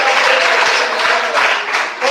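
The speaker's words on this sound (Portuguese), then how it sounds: "E bate mais palmas." Congregation at a church service clapping together, a dense sustained wash of applause with cheering voices mixed in, loud and steady throughout.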